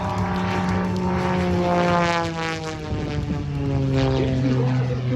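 A Pitts Special S2S aerobatic biplane's piston engine and propeller roar and pulse as it hangs on the prop and swings through hammerhead turns at an air show. The pitch wavers and the level dips briefly, heard at a distance outdoors.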